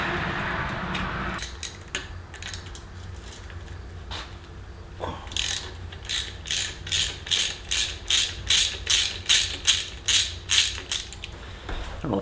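Ratchet wrench working bolts loose on an air-cooled VW Type 1 engine case during a buggy engine split: a few scattered clicks, then a steady run of rapid ratcheting bursts at close range, with no talking.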